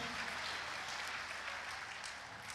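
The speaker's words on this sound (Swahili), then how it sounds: "Appreciate Askofu kwa makofi" Church congregation applauding a bishop during a Sunday service, steady dense clapping throughout, loud and close with no voices.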